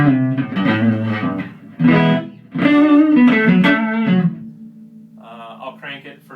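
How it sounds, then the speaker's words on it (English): Vintagesoundamps VS410 guitar amp cranked into its own overdrive with no pedals, stock speakers, playing loud distorted chords and riffs in bursts with short pauses, then a quieter single-note run at the end. "I'll crank it for some amp distortion here."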